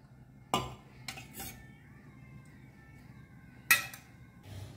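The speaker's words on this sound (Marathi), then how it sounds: "आतां तातूंत घालता 2 व्हडलो चमचो तेल" A spoon knocks against a kadhai as two large spoonfuls of oil go in, giving a few sharp metallic clinks spaced apart over a quiet kitchen background.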